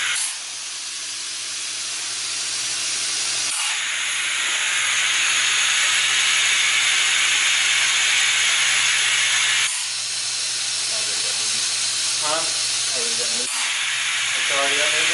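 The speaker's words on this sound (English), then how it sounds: "with anything you do with air hose, they have the requisite air leak" Air hissing from a leaking air hose during polyurethane concrete porch and driveway leveling, a loud continuous hiss that runs throughout, interrupted by a couple of brief drops, with faint voices in the background.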